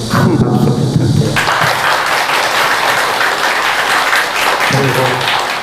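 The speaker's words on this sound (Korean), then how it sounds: "우리 보광스님을 위해서 그동안 고생한 데에 격려에 큰 박수 부탁드려요." A crowd at a Buddhist hall dedication and eye-opening ceremony claps loudly for a monk, dense sustained applause after a brief spoken moment at the start, with speech resuming faintly at the end.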